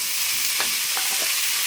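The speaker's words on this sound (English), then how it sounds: "Now, insert the meat into the pan." Chicken meat sizzles loudly in a hot pan for wraps, a steady close crackle of frying with a few faint clicks from stirring, no voices.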